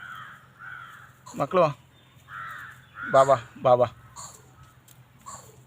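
Crows cawing nearby in several harsh, raspy calls in short bursts, loud and close, mixed with a person talking and calling out between the caws.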